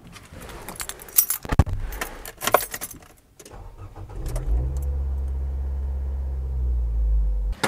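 Keys jangle sharply in a few bursts, then after a short pause a car engine cranks and catches, settling into a loud, steady idle that swells slightly near the end.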